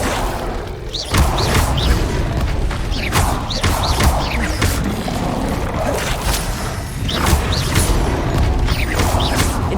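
Repeated fire spells cast in Hogwarts Legacy combat, a series of loud whooshing bursts and thumping impacts every second or so, close and punchy amid the fight's clatter.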